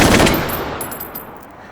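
Rapid fully automatic fire from a high rate-of-fire battle rifle in Call of Duty: Black Ops, a loud, dense burst at the start that tails off into echoing reverberation, with no talk.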